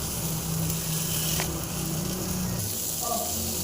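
Large brinjal slices sizzle steadily on a hot tawa with a little oil, a continuous close frying hiss with faint crackle and no talking.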